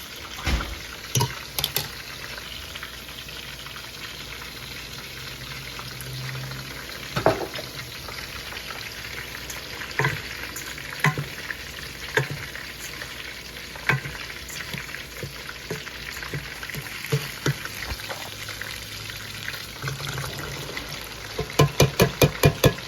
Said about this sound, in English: I did saute the rice just now for about maybe 2 minutes on medium or high heat.